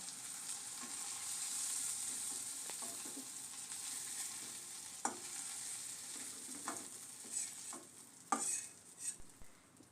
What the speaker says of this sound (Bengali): এবার নেড়ে চেড়ে ভালোভাবে চিংড়ি মাছগুলোকে ভেজে একটি পাত্রে উঠিয়ে রাখব